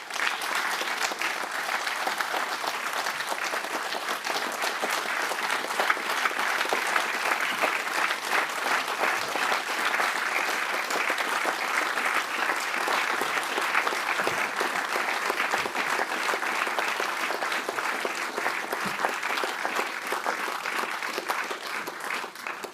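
An audience applauding Serge Klarsfeld at the inauguration of the exhibition "Simone Veil. Mes Soeurs et moi", sustained loud clapping from a large crowd that stays dense and even for over twenty seconds.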